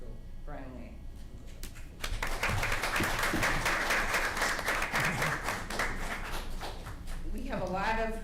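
An audience at a school board meeting applauds the introduction of a new high school principal, a few seconds of steady clapping between stretches of someone speaking into a microphone.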